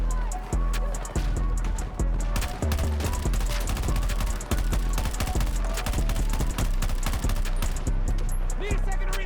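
Rapid video game gunfire crackles continuously in dense bursts of sharp shots, loud and close, with a voice talking over it.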